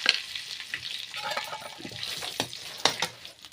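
Cumin going into a hot pan while drumstick kadhi is cooked: steady close frying sizzle with scattered crackles and a couple of sharper pops, no voices.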